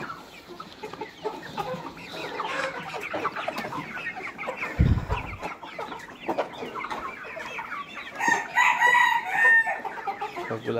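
Tiger chickens feeding on fermented corn, clucking repeatedly with a rooster crowing nearby, plus scattered pecking and rustling in a farm setting.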